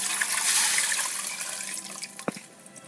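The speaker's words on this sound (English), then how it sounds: "Now we add a little bit more water." Water pours in a steady rushing stream into a pressure cooker of black beans, gradually easing, ending with a few splashes and drips, close by.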